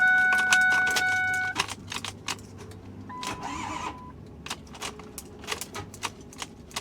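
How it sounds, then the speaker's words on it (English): A Ford F-350 truck's warning chime gives way to clicking and a brief strained starter whine that never catches, its engine locked, followed by more scattered clicks. "it almost sounds like the engine's locked"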